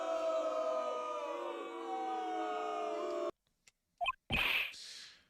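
Courtroom crowd booing in a Phoenix Wright video game, a sustained loud jeering roar from many voices that cuts off abruptly, followed by short sharp game sound effects.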